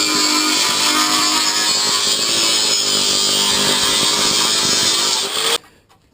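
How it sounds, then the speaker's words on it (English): A power tool cuts through the metal front apron of a Honda DC2 Integra, a loud, close, continuous high-pitched grinding whine that holds steady for over five seconds and then stops abruptly. "I'm going to trim along this white line, cut out the top of the apron"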